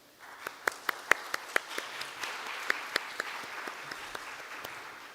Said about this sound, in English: So a warm round of applause for this brilliant symposium here today.